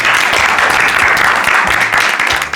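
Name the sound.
applause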